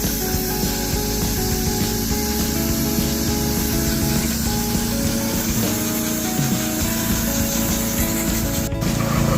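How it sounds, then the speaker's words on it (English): Acid wash sprayed from close range onto car trim during a degrease and trim restoration, a steady, loud, continuous hiss with no pauses and no talking. "So now we're gonna spray it, and then she's coming along spraying real close to release it"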